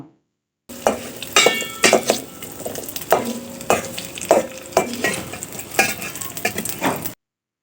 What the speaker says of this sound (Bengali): তেল গরম হয়ে গেলে মাখানো ডিমগুলো আমি চুলায় দিয়ে দিলাম এগুলোকে এখন আমি হালকা ভেজে নিব